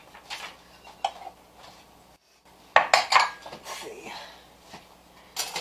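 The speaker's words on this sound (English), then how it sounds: "let me grab some bowls" Bowls are grabbed and set down, with ceramic dishes clattering and clinking in a few sharp bursts and a brighter cluster midway, close by, with a brief spoken word.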